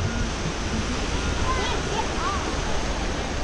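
Minnehaha Falls rushing in a steady, loud, broad roar that fills the whole moment without a break, with faint voices barely rising above it.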